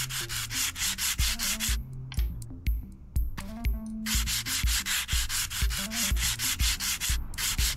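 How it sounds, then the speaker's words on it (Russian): Rails being ground smooth in the video game Train Station Renovation, a loud, steady rasping grind in rapid repeated strokes that briefly drops away in the middle before resuming. "Я буду шлифовать отсюда до следующей станции, я так понимаю."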